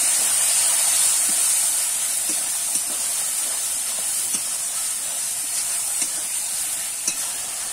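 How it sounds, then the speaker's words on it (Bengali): Bengali spice masala with meat masala and a splash of water frying in a pan for a bhetki fish-bone dish, a loud, steady, hissing sizzle with faint occasional stirring clicks and no voices. "সামান্য একটু জল দিয়ে দেবো, দিয়ে মশলাটা আমি কষিয়ে নেব"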